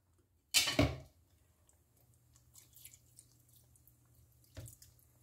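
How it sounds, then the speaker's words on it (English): Hemp milk is poured into a simmering alkaline stew, a short close liquid splash followed by faint dribbling and a second small splash a few seconds later, no talking. "I'm going to add a little bit more hemp milk."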